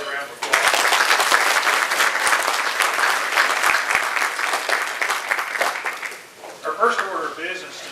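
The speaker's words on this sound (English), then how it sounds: "let's give him another round of applause." Loud, sustained applause from a large crowd at a sports hall of fame ceremony fills the room for several seconds, then fades as a voice begins speaking.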